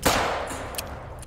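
A single sharp pistol shot fired at a buffalo during an outdoor hunt, a loud, close crack at the very start that trails off into a brief decaying echo.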